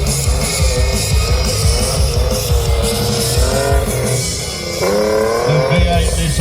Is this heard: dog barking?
no